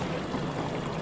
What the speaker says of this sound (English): My weight and my motor is sitting there idling